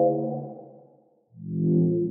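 Atmospheric dubstep bass synth patch built in Serum with chorus, two sustained swelling tones with a brief gap between, dark and wobbly like whale calls, no talking.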